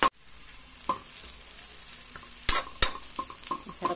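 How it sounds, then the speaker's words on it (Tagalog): Fried pork fat being stirred in a pan with garlic and onion, sharp scraping strokes over a low sizzle, several close irregular clatters of the utensil against the pan. "Halo ko na guys yung pritong taba ng baboy."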